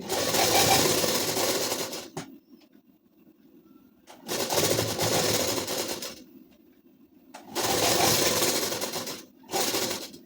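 A sewing machine stitches the sleeve of a ladies' suit in three loud runs of a few seconds each, separated by quiet pauses with a low hum, plus a short final burst.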